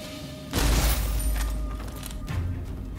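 A single gunshot is fired at an enemy in the Rise of the Ronin video game, a sharp heavy boom followed by a lingering rumbling decay, loud and close, with no speech.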